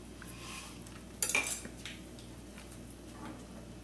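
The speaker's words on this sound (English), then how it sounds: "Stir it up a little bit." Pakora dumplings are stirred in curry in a pot, with faint soft stirring and a sharp metallic clink of a spoon against the pan, quiet and close.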